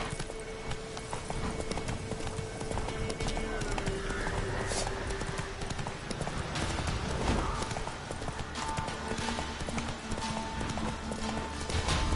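Horse hooves pound in a steady galloping clip-clop in the video game Witcher 3, loud and continuous over game ambience, with a faint tonal layer.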